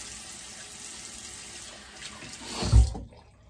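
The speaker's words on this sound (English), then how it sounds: "Very quick rinse." Tap water runs steadily into a sink for a quick rinse of a handmade Swedish shaving brush, a close, even hiss that swells briefly near the end before cutting off.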